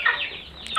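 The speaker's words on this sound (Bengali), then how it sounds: "ফাইটার এবং প্যারট মুরগিগুলো কত সুন্দর দেখতে" A parrot-beak Aseel fighter hen clucks close by on a farm, giving a short burst of bright, raspy clucks that fade briefly before another quick call.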